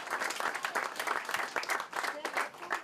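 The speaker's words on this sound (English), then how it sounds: "So a nice round of applause for Dan Conley." A crowd applauds for a state representative at an East Boston National Night Out event, with steady, dense clapping throughout, moderately close and loud, with no one talking over it.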